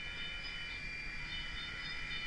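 A model railroad train pulling out after its two cars are uncoupled gives a steady, faint mechanical hum and rumble that runs unbroken and alone, with no talk.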